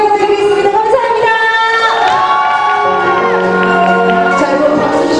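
A festival crowd at a rice and corn festival cheers and shouts loudly, with high voices whooping over the din and a singer's voice mixed in. Clapping is not clearly distinct under the cheering.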